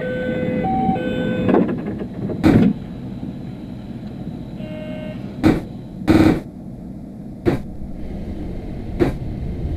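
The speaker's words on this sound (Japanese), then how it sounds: "閉まるドアにご注意ください。" Sliding doors on a JR Kabe Line local train bound for Hiroshima shutting before departure, several sharp thuds and bangs at irregular intervals over a constant low engine rumble, with a few faint chime-like tones.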